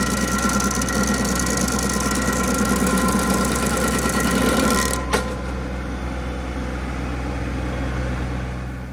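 A stump grinder with dull cutters runs its engine at a steady, loud idle-like drone, with a brief knock partway through as the grinding sound changes, and no talking.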